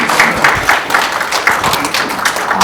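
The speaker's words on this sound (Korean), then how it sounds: "큰 박수 부탁드리겠습니다." Applause from an audience at a National Assembly forum marking a regional newspaper's 80th anniversary, a steady, dense crowd clapping that carries evenly through the whole stretch.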